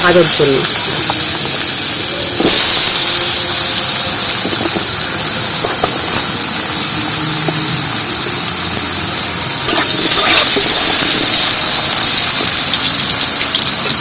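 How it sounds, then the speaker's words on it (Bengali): Small-cut, washed potatoes dropped into hot refined white oil, a loud, steady, rain-like frying hiss that fills the whole stretch with a few sharper surges, close up. "আলুটা একদম ছোট ছোট করে কেটে নিয়েছি কেটে পরিষ্কার করে ধুয়ে নিয়েছি আর এটা এবার গরম তেলের মধ্যে দিয়ে দেবো"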